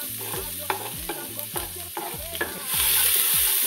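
Chopped onion and garlic frying in a pan while cooking arroz con pato, a bright continuous sizzle with rhythmic scraping stirs about twice a second, close up, the sizzle swelling louder near the end, no voices.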